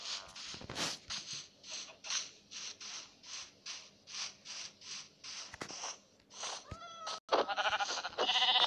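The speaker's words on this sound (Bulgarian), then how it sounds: "Ето една овца." Repeated sheep bleats from a Minecraft video game, a steady run of short nasal cries one after another at close range, followed by brighter game sound effects near the end, with no talking.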